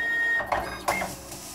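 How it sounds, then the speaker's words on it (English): A Datacard 150i card printer running its magnetic stripe encoder test, a short mechanical whirr with two quick motor sweeps and a faint electronic tone, close and moderately quiet. "We'll test the mag encoder."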